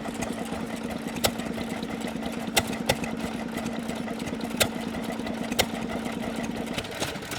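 Ruston Hornsby stationary engine running at a vintage show, a steady low chugging beat with regular louder knocks about every second and a half, continuous and fairly close.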